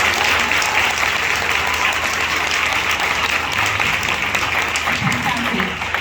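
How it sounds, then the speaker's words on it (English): A school honor roll assembly audience applauds a student, dense and steady clapping filling the hall at close range for the whole stretch. "Can we give her another round of applause?"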